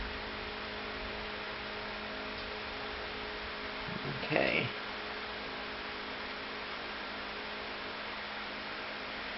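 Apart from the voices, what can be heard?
air conditioner running in the background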